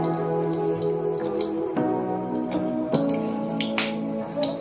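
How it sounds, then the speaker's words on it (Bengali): Whole garam masala dropped into hot mustard oil in a pan for a mutton chaap: scattered light crackles and pops over a steady sizzle, with no talking. "সর্ষের তেল নেওয়ার পর গোটা গরম মশলা এখানে দিয়ে দিচ্ছি"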